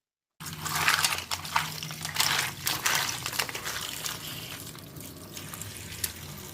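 Food washed under a running kitchen tap; after a brief silence, water gushes and splashes steadily, close by, then settles into a softer continuous flow with no voices.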